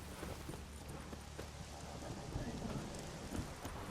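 Rain falls in The Witcher 3, a quiet steady patter and hiss with a low rumble beneath, close and unbroken, with no talk.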